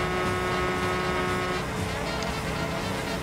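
A period car speeding along a highway in Mafia II, steady engine drone and road roar held at high revs, close and continuous without a break.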